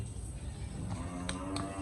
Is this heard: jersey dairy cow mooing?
yes